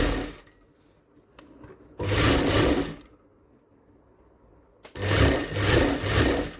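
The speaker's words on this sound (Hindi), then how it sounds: "पूरे पे लगा देंगे एक सिलाई।" A sewing machine stitches a designer blouse in two rapid, whirring bursts separated by a quiet pause, the motor sounding close and fairly loud.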